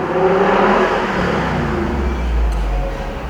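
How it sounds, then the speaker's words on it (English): A Jeep 4x4 engine rumbles and revs through its exhaust, a loud, close, low growl that swells briefly before easing off. "Let's hear that exhaust a little bit."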